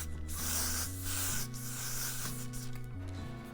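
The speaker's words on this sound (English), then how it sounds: "I'm going to take my go-to spray to spray the lace" A pump spray bottle spritzes the lace of a 6x6 closure wig in a steady hiss, over a background of continuous music.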